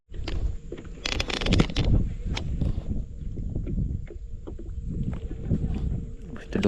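A small fishing boat pulling away from a jetty, its motor chugging and water knocking against the hull close by, with bumps and clatter on board while people talk.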